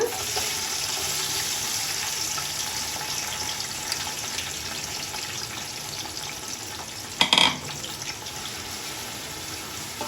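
A steady, close sizzling hiss of onions frying in a pan for mutton biryani runs throughout, with a brief clatter near the end.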